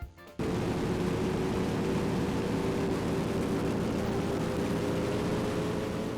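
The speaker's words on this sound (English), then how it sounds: "you're just driving alone on a road with very loud engine and tire screeching sounds screaming in your ears" A loud, steady engine drone from an old racing car in the driving game Spirit of Speed 1937 starts abruptly and holds a constant roaring tone without pause, close and dominant.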